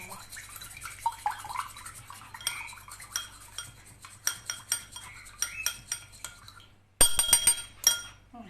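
Eggs are mixed in a bowl with a utensil for a Moroccan sweet dough, giving a series of close clinks and scraping taps against the bowl, irregular at first, then quicker and louder near the end.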